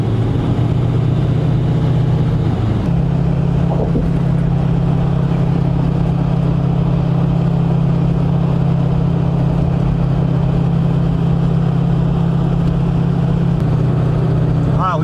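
A car pulling a trailer cruises along a highway on a Friday afternoon, a steady low engine and road drone held throughout at an even, constant level with no voices.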